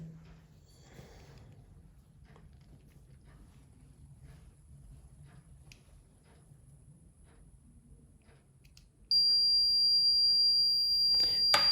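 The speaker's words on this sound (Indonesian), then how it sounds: "jika MQ135 mendeteksi ada gas, buzzer akan berbunyi secara otomatis" A quiet room with faint clicks and rustles, then a loud, steady high-pitched electronic buzzer of an MQ135 gas sensor alarm, triggered by lighter gas, suddenly starts and continues to the end.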